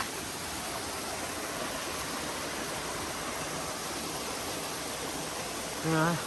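Water rushes steadily down a waterfall on a forest stream, a dense unbroken roar that holds at the same level throughout, with a short burst of voice right at the end.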